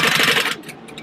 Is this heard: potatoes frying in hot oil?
no